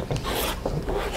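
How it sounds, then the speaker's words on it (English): A rotary cutter slices paper along a ruler while trimming a Christmas basket quilt block, giving a short, close, dry rasping scrape in a couple of quick strokes. "now I just need to cut on the solid lines"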